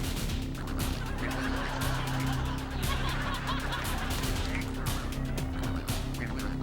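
A flock of ducks quacks and squawks continuously, a busy, nearby chorus of overlapping calls.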